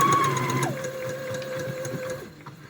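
An RS-260 computerized sewing machine runs after repair of its small power supply unit. It gives a steady close whirring hum that shifts to a lower, slower speed partway through and then stops near the end.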